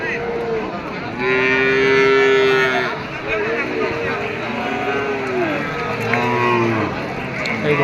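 Cattle at a busy cattle market moo loudly and repeatedly, long drawn-out calls overlapping each other, with crowd noise and voices of people talking underneath.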